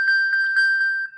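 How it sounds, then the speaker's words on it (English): An iPhone sounds a repeated high, clear electronic ping, set off from a paired Apple Watch; several close chimes ring over a steady sustained tone, loud and near, with no voices. "if you do that ping of your phone, Alan"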